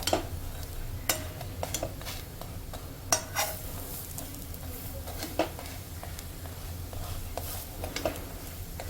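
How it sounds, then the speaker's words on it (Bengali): Low steady sizzle of red-amaranth patties frying in shallow oil, punctuated by scattered clicks and scrapes of a spatula in the pan. "এটা এরকম অল্প তেলেই কিন্তু ভাজা হবে"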